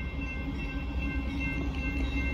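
A northbound Union Pacific mixed freight train hauled with a Ferromex locomotive rolls past in the evening, a steady close rumble of wagons with a faint high tonal whine, no talking.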